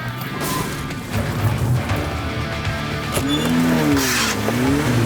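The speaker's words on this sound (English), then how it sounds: "The driver is trying to put the car into reverse to reverse back and sort of hit us." Car reversing and ramming a police car during a chase, with a loud engine, tire squeal and a crash-like thud amid road noise.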